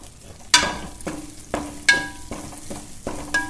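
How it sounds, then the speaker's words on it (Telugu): Curry leaves frying in hot oil in a pan for fish gongura curry, with a steady sizzle broken by several sharp spoon scrapes and clinks as they are stirred, close up with no talking. "పచ్చివాసన పోయేదాకా ఫ్రై చేసుకున్నామండి"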